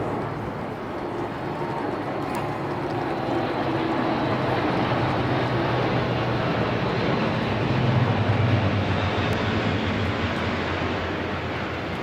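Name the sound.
four-propeller Atlas military transport aircraft flying past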